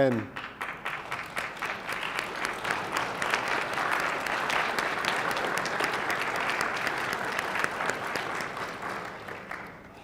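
Sustained applause from a large crowd at a legislative floor session, steady and full for several seconds, then tapering slightly at the end.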